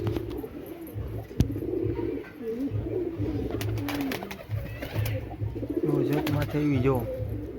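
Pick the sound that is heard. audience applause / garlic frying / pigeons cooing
pigeons cooing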